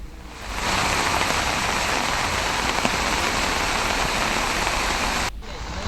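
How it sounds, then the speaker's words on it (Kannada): Heavy, continuous monsoon rain pours down in the Malnad hill region of Karnataka, a dense, steady hiss that fills the scene without a break before easing slightly at the very end; no one speaks. "ನಿರಂತರವಾಗಿ ಸುರಿತಾ ಇರುವಂತಹ ಮಳೆಗೆ ಮಲೆನಾಡಿಗರು ಕಂಗಾಲಾಗಿದ್ದಾರೆ"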